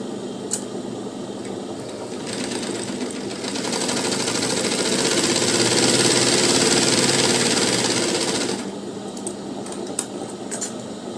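A sewing machine stitches the lining of a blouse in one long steady run, a close mechanical whir that swells and fades, with faint clicks before and after.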